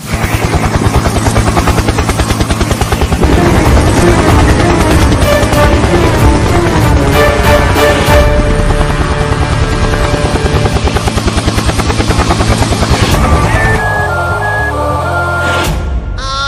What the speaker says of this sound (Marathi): गोट्या झापा हेलिकॉप्टर उडाय पण लागलाय